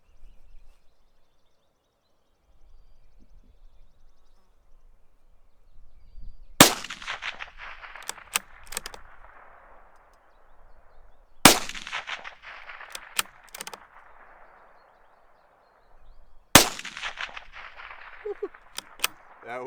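Three sharp gunshots from a Bergara BMR .22 WMR bolt-action rifle, spaced about five seconds apart outdoors, each a loud crack with a brief ringing tail, quiet handling noises between shots.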